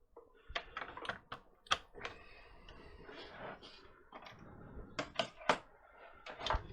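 Irregular keystrokes on a computer keyboard connected to an Atari 800XL, bursts of close, sharp clicks and clacks with short pauses between them, recorded fairly quietly.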